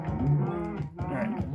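Several Minecraft cows moo in overlapping, close, loud calls, two long lowing moos back to back with a short gap between them.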